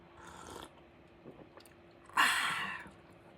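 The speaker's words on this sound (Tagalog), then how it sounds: "higop muna tayo ng kape." Two close, airy slurps of hot coffee being sipped from a cup, a short one followed by a louder, longer draw after a pause.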